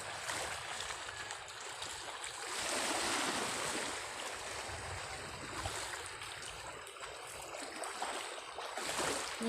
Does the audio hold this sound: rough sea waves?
yes